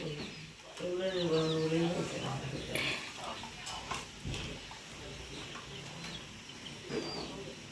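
A chicken clucks and calls in a short burst of close, wavering notes early on, followed by softer scattered sounds while people talk nearby.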